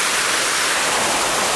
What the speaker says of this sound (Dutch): zijn ietsjes dichter bij de waterval gekomen, mensen. Ja, je ziet hem wel, je hoort hem zeker.